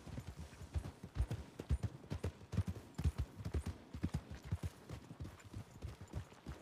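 Horses' hooves clip-clop in a steady, overlapping walking rhythm, several animals moving together at close range in the video game Red Dead Redemption, with no talking over them.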